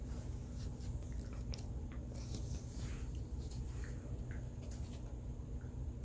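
A dog chews and bites on a toy duck up close, giving a steady run of crunchy, squishy gnawing and crackling bites over a constant low background rumble, with no talking.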